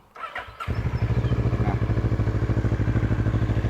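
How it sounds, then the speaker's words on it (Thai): A Kawasaki ER6N motorcycle fitted with an Akrapovic exhaust starts up after a brief crank and settles into a loud, close, throbbing idle with an even, rapid pulsing beat. "ฟังเสียงท่ออาคาแท้ดิ"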